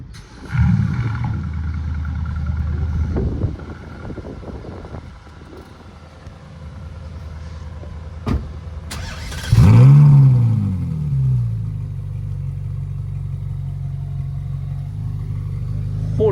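A McLaren 765 LT supercar passing a street crowd at a Deauville car-spotting meet: engine rumble and revving, then a loud roaring acceleration sweeping close by and fading into a steady drone, with scattered background voices.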